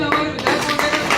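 A crowd claps steadily at a municipal council chairman's swearing-in ceremony, a dense run of applause over a moment.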